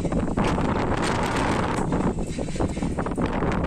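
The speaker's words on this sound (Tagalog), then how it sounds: "Sobrang lakas ng hangin talaga." Strong wind at Tagaytay overlooking Taal Lake buffets the microphone continuously, a loud, rough rumble with gusty surges throughout.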